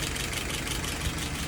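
Engine idling at about 660 RPM after carburetor and float checks, a steady close-up low rumble with an even, slightly knocking pulse and no voices.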